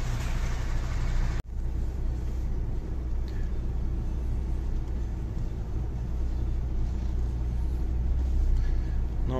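A delivery truck rolls out slowly after unloading pallets, heard from the cab as a steady, low engine rumble with a sharp knock early on.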